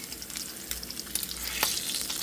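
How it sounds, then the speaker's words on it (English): Bacon sizzling in a home kitchen pan, a close, even hiss dotted with small spitting pops and one sharper crackle near the end, no one speaking. "Go ahead and get this bacon cooking here."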